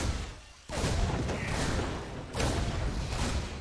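Reaper grenades going off in a StarCraft 2 battle, two loud bursts of blasts about two seconds apart over busy combat noise, with no talking.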